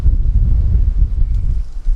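Strong gusty wind buffets the microphone outdoors on a showery day, a steady low roar with no voices.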